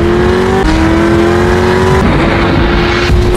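A car races along a road in an action film, its loud engine holding a steady drone that shifts pitch as it speeds, with no talk over it.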